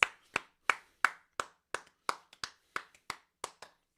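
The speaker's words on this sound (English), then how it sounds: "Let's give a round of applause, Katie." One person claps alone during a live stream, giving about a dozen sharp, separate claps at a slightly uneven pace, close and clear against silence.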